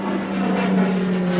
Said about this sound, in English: in the Corvalis, the TTX. Beautiful airplane here.